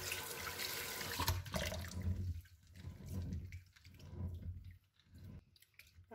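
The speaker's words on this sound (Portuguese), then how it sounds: "Vai trocando de água. Vai esfregando para tirar toda a casquinha." Water splashing and sloshing in a basin as black-eyed peas are rubbed and washed to strip off their skins, with repeated scrubbing bursts and short pauses between them, close and fairly quiet, no talking.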